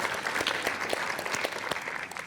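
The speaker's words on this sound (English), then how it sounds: "I want to give you all a round of applause" An audience bursts into steady applause, many hands clapping together in a close, full wash of sound that thins slightly toward the end.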